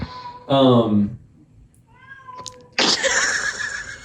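A cat meows loudly twice with a pause between, the first a long drawn-out cry and the second a sharp, higher wail.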